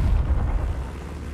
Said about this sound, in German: Ich sehe einen Sniper, der gleich schießt